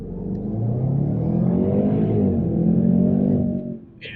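A car accelerating hard off the line produces a loud, close engine roar that climbs steadily for a few seconds before dropping away abruptly.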